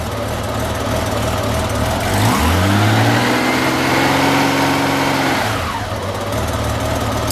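A Honda Goldwing motorcycle engine idles, then revs up with a rising whine, holds a higher pitch for a few seconds and drops back to a steady idle, loud and close with no talk.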